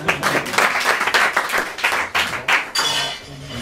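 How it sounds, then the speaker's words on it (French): Audience applause at an improvised theatre show in a bar: dense, steady clapping from a small crowd close by, lasting a few seconds, with faint clinks in the background. "On peut l'applaudir, on peut l'applaudir."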